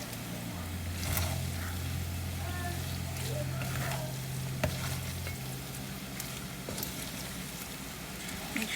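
Char koay teow rice noodles sizzle steadily while being stir-fried and mixed in a pan with bean sprouts and spring onions, with scraping stirs, a low steady hum underneath and sharp clicks here and there.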